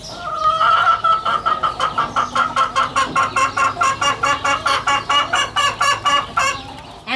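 A barnyard chicken clucks in a rapid, evenly spaced series of loud close cackles, a rhythmic run of sharp calls repeating for several seconds with no talking.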